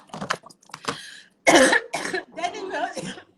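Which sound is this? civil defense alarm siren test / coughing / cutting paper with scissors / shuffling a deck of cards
coughing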